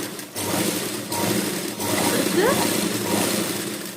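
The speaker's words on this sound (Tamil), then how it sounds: "இப்போ நான் ஸ்ட்ரைட்டா தையல் போட போறேன்." A sewing machine runs a straight practice stitch along a piece of cloth, giving a continuous, close motor whir and needle clatter that holds steady for several seconds.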